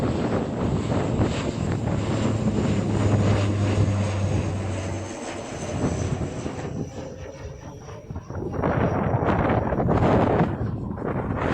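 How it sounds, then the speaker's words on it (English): An ATR 72 turboprop plane takes off, its engine roar and propeller drone steady and strong, rising and fading with heavy wind buffeting the microphone throughout. "we've got the ATR 72 plane that's taking off"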